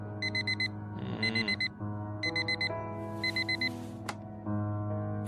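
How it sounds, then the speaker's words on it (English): An alarm clock going off in a quiet room, repeating bursts of electronic beeps in groups of four, clear and close, over a soft musical tone. "Every day that alarm goes off."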